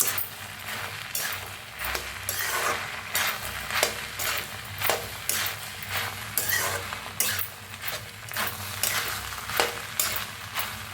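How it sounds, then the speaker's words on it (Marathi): Cooked salted rice being mixed with dal and coriander in a pan, repeated rhythmic scraping strokes of a spoon against the metal over a faint sizzle, with no talk. "वरण मिक्स करून घेऊया आता मिक्स करूया"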